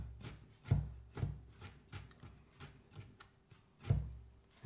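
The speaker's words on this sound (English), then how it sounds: "So just cutting it thinly, slicing across" A knife slices garlic thinly on a cutting board with steady, quiet chopping taps in an uneven rhythm, close by and with no voices.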